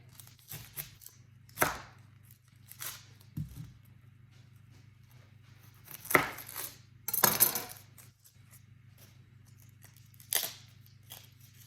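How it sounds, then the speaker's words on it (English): A knife cuts an onion into thin strips on a board, producing sparse, irregular chopping and slicing taps with quiet pauses between them over a low background hum. "we are going to start by cutting the onion"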